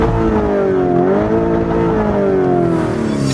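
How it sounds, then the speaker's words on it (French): A luxury sports car switched into Corsa race mode revs loudly, its close, sustained engine note climbing and then slowly falling in pitch, with no speech. "Pour moi, le plus impressionnant, c'est le bruit du moteur"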